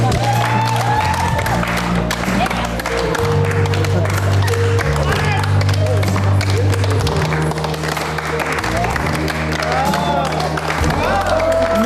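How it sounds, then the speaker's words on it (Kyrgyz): An audience at a televised matchmaking show claps in sustained applause, dense and steady throughout, with voices talking over it. "Кол чаап туралы."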